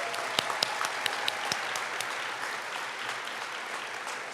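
Audience applause at a Draft Day 2025 event, a dense steady clapping from a crowd with a few sharper claps standing out near the start, sustained at an even level with no talk over it.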